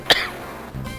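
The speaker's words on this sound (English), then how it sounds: "I've been dealing with a chesty cough" A single short, harsh chesty cough from a nearby person breaks a quiet room, followed by a faint soft throat sound near the end.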